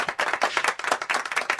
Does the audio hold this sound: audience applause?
yes